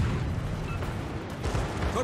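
Warship anti-aircraft guns fire in World of Warships as a dense, unbroken rattle of rapid shots and deep booms, loud and close, with a slight surge near the end.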